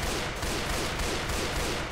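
Dense, continuous gunfire in the zombie shooter Left 4 Dead 2, a rapid unbroken barrage filling the whole stretch, loud and close with no talk.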